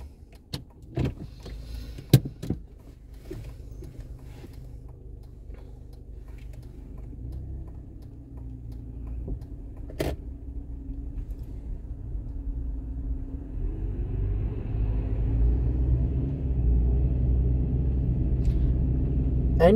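A learner's car pulls away during an independent driving lesson near Pinner and Carpenter's Park. A few faint interior clicks come first, then a low engine rumble that builds steadily and grows louder as the car moves off.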